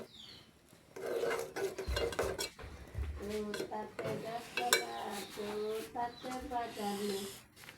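Spoon clinking and scraping against a dish as three spoonfuls of sugar go in, a series of sharp metallic taps and rattles, close and fairly quiet, with a person talking over it.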